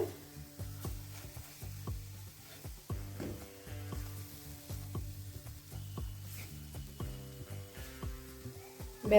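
Eggplant slices fry in a pan with only water, a quiet steady sizzle broken by the repeated clicks and scrapes of turning the pieces.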